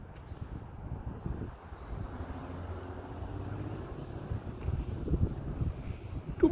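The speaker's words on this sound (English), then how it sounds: "Cool outside, windy." Steady wind gusts outdoors near a resort, a broad rumbling buffet against the microphone that builds slightly toward the end, with no talk over it.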